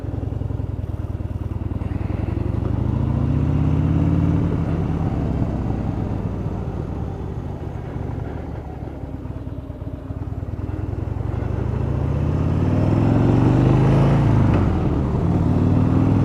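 A Harley-Davidson Low Rider motorcycle engine rumbles steadily while riding, with low throaty revs rising and falling as it accelerates and eases off, fairly close and loud.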